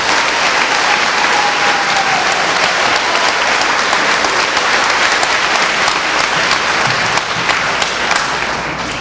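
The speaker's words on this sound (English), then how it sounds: "we should give a round of applause as a group for Mr. Billy Richards" A loud, continuous round of applause rises from a crowd at an 8th-grade graduation. Many hands clap steadily for about nine seconds with no break, and a few sharper claps stand out near the end.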